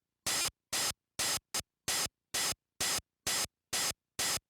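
White noise from a Vega synthesizer module fires in ten short, evenly spaced bursts of hiss with silence between them, loud and close with no talking.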